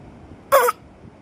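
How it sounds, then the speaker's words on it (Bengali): A single short cough from a one-year-old baby, close and fairly loud, standing alone against a quiet room background. "একটু কেশে দাও, কেশে দাও, মুখে হাত দিয়ে কেশে দাও"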